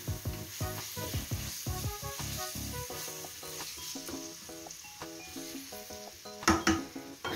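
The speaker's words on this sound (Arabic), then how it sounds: "ندير هكا شويه ديال الابزار، خلي هاد الشيء كيتقلى هكا مزيان" Spices sizzle in hot oil in a pan while a homemade paella is being prepared, a steady close frying hiss broken by busy clinks and scraping of utensils and a louder clatter near the end.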